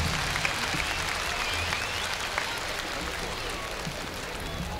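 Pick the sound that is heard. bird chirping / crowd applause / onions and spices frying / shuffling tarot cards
crowd applause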